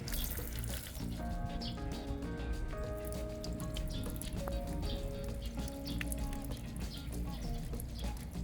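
Water poured from a container onto a freshly dressed, shiny car tire during a car wash, a steady splashing and trickling wash with faint tonal ringing, no talk.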